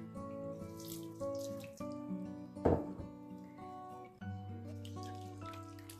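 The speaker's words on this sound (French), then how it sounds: "Et je vais mouiller avec de l'eau tiède." Lukewarm tap water pours into brioche dough mixed with baker's yeast, a short gurgling splash rising midway through against quiet background music.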